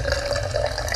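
Water is poured steadily into a homemade water filter, a continuous close splashing rush that runs evenly throughout without any speech.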